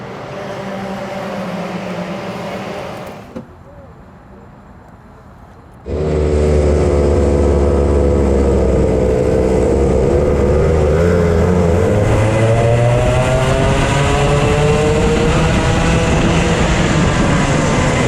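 Racing karts accelerating off the start of a kart race, a loud sustained engine roar with rising pitch that bursts in after a muffled lull, several engines blending close by.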